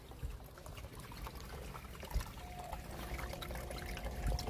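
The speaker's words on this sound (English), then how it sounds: "So all this water is running into the sump pit." Water runs steadily into a sump pit in a trench at a high-water-table pool site, a continuous faint trickling and splashing with some low rumble underneath.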